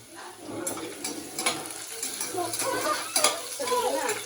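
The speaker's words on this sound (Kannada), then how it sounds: "ಈರುಳ್ಳಿ ಕ್ಲೀನಾಗಿ ಫ್ರೈ ಮಾಡ್ಕೋಬೇಕು" Onions frying in a pan with mushrooms, a moderate sizzle broken by scraping stirs and clinks of a utensil against the pan.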